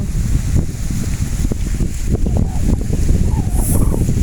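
Steady dry, cold wind rushing and buffeting against the microphone, a low rumbling roar throughout with no talking.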